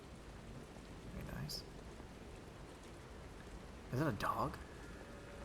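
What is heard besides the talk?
rain on a rainy night in a video game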